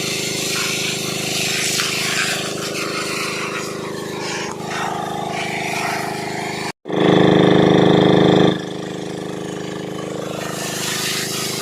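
A motor pump runs at a home well being cleaned, a loud, steady mechanical drone that cuts out for an instant partway through and returns even louder for a couple of seconds before settling.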